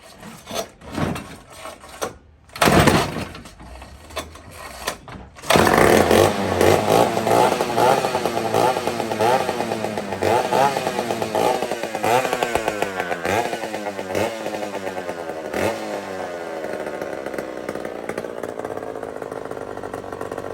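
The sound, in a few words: rusty rare chainsaw running without a muffler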